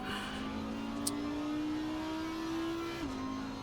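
In a racing sim, an Audi GT4 race car's engine whines steadily at mid pitch, rising gradually and then dropping with a gear change near the end. A brief click is heard early on, and no one talks.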